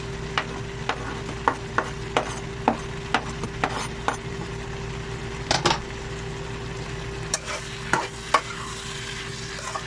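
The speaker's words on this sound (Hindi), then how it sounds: "इसके ऊपर हम डाल देते हैं शिमला मिर्ची, ये जो हमने काट के रखी हुई थी" Chopped green and red capsicum is stir-fried with mixed vegetables in a pan, a regular series of spatula taps and scrapes over a low, steady sizzle and hum, close by.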